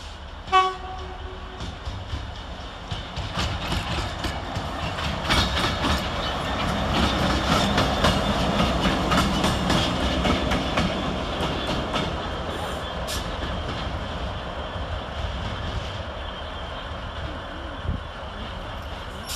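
Class 66 freight locomotive 66431 rumbles through Carlisle station with a heavy diesel drone and rhythmic clatter of wagons over the rails, swelling as it passes close and fading slightly toward the end.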